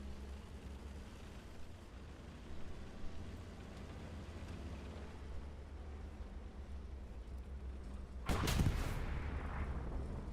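A tank gun fires in the WWII shooter Hell Let Loose, a single sharp, loud blast late in the clip rising out of a steady low rumble of engines and distant battlefield noise.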